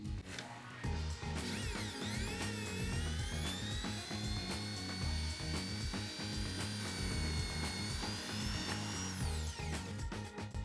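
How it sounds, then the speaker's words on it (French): A power drill bores a hole in a rod, its motor whining with rising and falling pitch sweeps and a grinding, rattling bite as the bit cuts, loud and continuous for about ten seconds before winding down. "il faut percer un trou dans la tige en reculant de 5 mm par rapport au bord"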